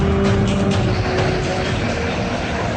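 A car drives closer with a steady engine drone and road noise, loud and close throughout, with brief higher squeaks near the start.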